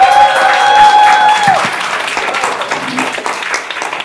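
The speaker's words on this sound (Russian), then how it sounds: "И давайте еще раз им похлопаем," Audience applause at a Christmas concert, a dense, loud burst of clapping filling the hall right after a sustained tone fades, continuing steadily throughout.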